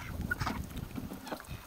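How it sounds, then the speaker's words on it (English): A goose honks in a snowy chicken yard on a winter morning, a few short calls close by with other fowl sounds mixed in and no talking. "There's our goose."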